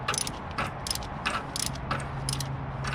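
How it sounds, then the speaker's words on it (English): Close ratchet clicks as a wrench works a bolt on an LT1 alternator bracket on a Caprice/Impala SS-type car, short bursts of sharp metallic ticking in an uneven rhythm of quick strokes, over a low background hum. "Yeah, I'm replacing this bolt."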